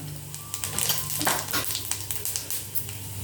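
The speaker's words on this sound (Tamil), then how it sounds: "கொஞ்சமாக ஜீரகம் போட்டுப்போம்." Cumin seeds sizzle in hot oil in a pan while cooking a side dish for chapati, a continuous crackling hiss with occasional scrapes of a stirring utensil, close and steady.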